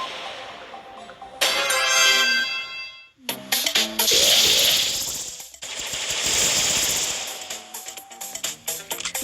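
Rapid gunfire from a boss in a video game, loud bursts of fast repeated shots with electronic effects and brief pauses between volleys, no talking.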